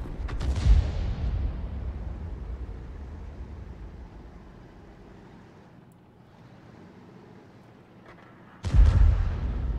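Tank artillery from a Bat.-Châtillon 155 58 self-propelled gun in World of Tanks fires twice, with a heavy close boom at the start and another near the end, and a low rumbling ambience in between.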